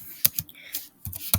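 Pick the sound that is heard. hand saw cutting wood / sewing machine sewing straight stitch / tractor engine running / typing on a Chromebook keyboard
typing on a Chromebook keyboard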